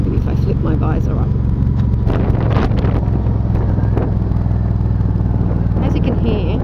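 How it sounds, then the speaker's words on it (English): Motorcycle exhaust note while riding with the rider's visor flipped up, a continuous low engine drone under loud wind buffeting, with someone talking over it throughout. "The third reason was really because of the tone of the exhaust."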